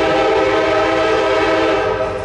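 A CSX local mixed freight train rolls past close by, a loud continuous roar of engines and wheels with a sustained horn-like tone throughout, no voices.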